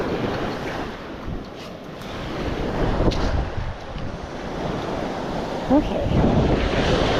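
Ocean surf washing onto the sand at Manasota Key beach, a steady close roar of waves with wind buffeting the microphone, and a person briefly speaking.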